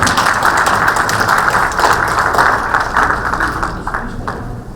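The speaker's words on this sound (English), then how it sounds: "we have an applause for him" An audience on stage at a police event applauds a speaker, a dense, even wash of clapping that holds steady for several seconds before easing off slightly at the end.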